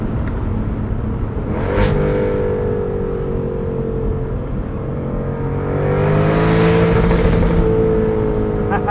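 A sports convertible's engine revving hard while stationary: a loud, sustained droning roar whose pitch climbs and falls, swelling twice, with sharp bursts near the start.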